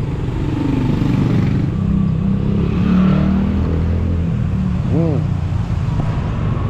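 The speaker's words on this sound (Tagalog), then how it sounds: "Uy, motor ko yun ah." A motorcycle runs along a narrow road amid steady engine and road rumble, loud and close, with voices talking over it.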